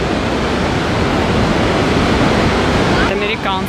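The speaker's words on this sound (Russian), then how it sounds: "Это американский водопад." Thunderous roar of the American Falls at Niagara, seen from the Canadian side, a dense, steady wall of falling water close by on a hot day, with a voice briefly speaking over it near the end.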